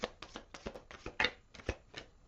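Tarot cards shuffled by hand in a series of quick riffling bursts and soft slaps, close and fairly quiet, with no talking over them.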